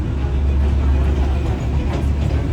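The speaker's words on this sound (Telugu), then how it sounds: "మొత్తానికి ట్రైన్ కూడా స్టార్ట్ అయిపోయింది." Darjeeling toy train running close by with a dense, steady low rumble and rolling clatter throughout, no voices present.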